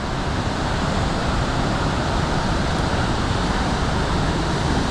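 Main Falls at Ohiopyle with the river running high at 14 feet, a constant broadband roar of heavy falling water, loud and unbroken, heard from the trail overlook without voices.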